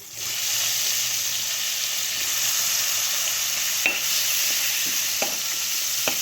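Aloo and meal maker chunks frying in oil for a tomato curry, a steady close sizzle throughout with occasional stirring scrapes and small pops, no talk.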